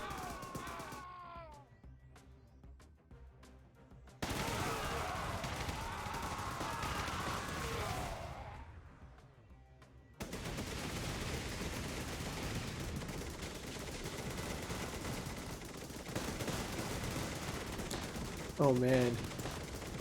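Bursts of rapid turret gunfire in Thunder Run: War of Clans crackle in dense volleys between quieter gaps, loud and sustained in stretches, with someone talking briefly early on.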